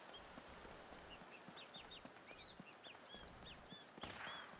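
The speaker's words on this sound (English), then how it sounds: "Oh, listen to the birds." Birds chirp outdoors in a quick run of short, high tweets, faint and somewhat distant over a soft hiss of background noise, with a brief louder rustle near the end.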